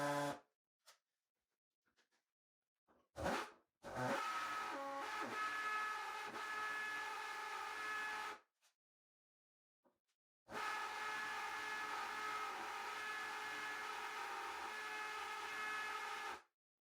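A drill bit grinding into wet porcelain tile, heard as a steady, high, whining screech in two long passes of several seconds each, separated by silence and a few short bursts.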